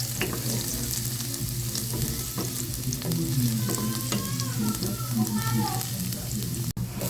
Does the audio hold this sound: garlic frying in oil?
yes